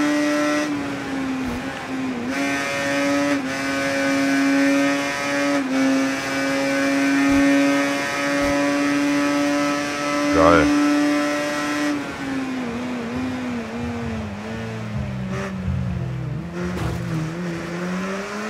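Tuned racing motorcycle in the video game Ride 3, a loud steady engine drone near and continuous, rising and dipping with gear shifts and throttle changes, no talk.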